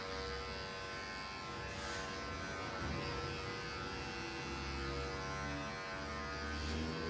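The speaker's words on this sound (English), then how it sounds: "going through now using the open blade of my clipper" An electric hair clipper with an open blade buzzes steadily and close while it cuts and softens the edges of a short men's bald fade, a continuous hum with no talking.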